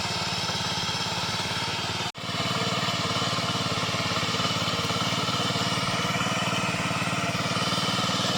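A tractor engine drives a threshing machine on a farm, giving a loud, continuous close-up drone with a steady pulsing rhythm and one brief dropout, with no talk.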